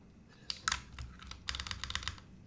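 Keys clack on an IQUINIX Super 1+1 TKL mechanical keyboard, first in a few separate taps, then in a quick close burst of crisp, rapid strokes.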